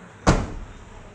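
A car door on a 2021 Renault Kiger BS6 opens with a single sharp clunk, close and fairly loud, followed by a brief fading rattle and then quiet.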